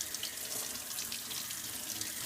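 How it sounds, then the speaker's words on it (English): Tap water runs steadily over a vinyl record to rinse the soap off, a close, continuous splashing stream with no voices. "And then just lightly rinse it off. Rinse the soap off."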